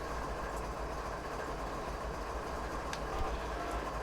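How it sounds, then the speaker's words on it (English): A train rolls past in a railway simulator game set on Marias Pass, a steady rumbling drone with faint clicks of the wheels on the rails, continuous and fairly close, with no talk. "We've got a train coming now. So we're just waiting for him to get by."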